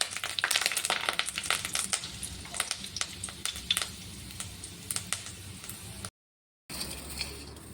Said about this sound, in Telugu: తర్వాత ఈ మిక్చర్ని ఇలా ముక్కలు ముక్కలుగా సన్నగా వచ్చేటట్టు నలుచుకోవాలి